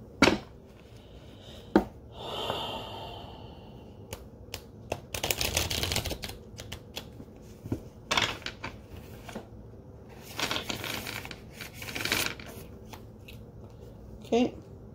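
Cards riffle and snap in a few short bursts between quieter rustling, close by, with some talk around them.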